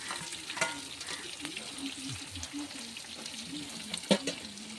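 Chopped onions and green chillies sauté in a pan for chicken curry with a soft continuous sizzle and occasional stirring clinks and scrapes, fairly quiet and close.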